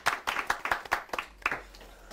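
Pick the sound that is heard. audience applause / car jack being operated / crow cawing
audience applause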